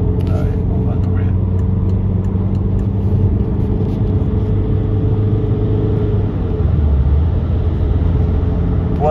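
Steady road noise and a deep engine rumble from a car driving along a highway and moving out to overtake, loud and close inside the cabin, with someone talking over it.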